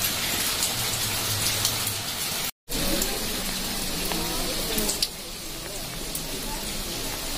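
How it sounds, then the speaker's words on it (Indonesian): Rain falling steadily in Penglipuran village, Bali, a broad hiss of drops on surfaces that runs throughout, with a voice speaking over it and a brief cut of silence partway through. "Kelihatannya hujan."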